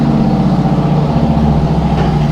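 Superbike engine running in a steady, deep, throbbing rumble, close and loud for the whole stretch, with no clear start-up burst or rev rise and no talk.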